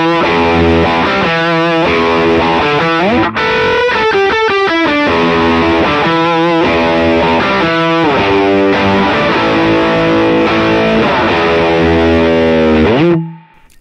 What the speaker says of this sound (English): But I did save a fuzz sound.